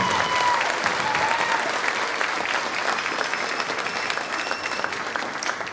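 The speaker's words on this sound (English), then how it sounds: "So how about a nice warm round of applause for Dr. Carcelli and the guitar" Warm applause from an audience at a school concert at Thames River Magnet School, steady dense clapping filling the hall for several seconds, gradually easing slightly toward the end.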